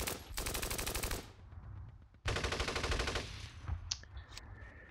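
Rapid machine-gun and rifle fire from the Steel Panthers war game, set in a 1980 Iran-Iraq war battle, comes in two long dense bursts separated by a short pause, followed by a few scattered sharp shots.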